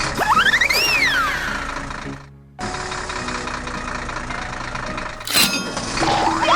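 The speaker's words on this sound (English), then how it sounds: "Tractor attaches the trailer and drives off." A tractor engine runs with a dense, steady rumble as it hitches a trailer and pulls away on a flooded farm, joined by whistling chirps and a brief drop out partway through.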